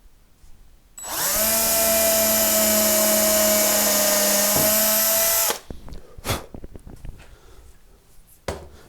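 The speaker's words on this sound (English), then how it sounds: "I'm just going to take a 2mm drill bit." A 2mm bit drilling into the top of an ES 335 guitar body, with a high steady power-drill whine that runs for about four seconds and then stops, followed by soft handling clicks and knocks.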